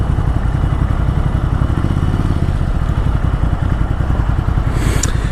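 A 2016 Ducati Scrambler Sixty2 motorcycle on the move, its steady mid-pitched engine drone mixed with constant wind rumble, close and unbroken for the whole stretch.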